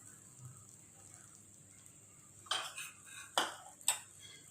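A spoon scraping and clinking against a pan while mixing curry masala powder for paneer butter masala, with three sharp metallic stirring strokes after a quiet stretch.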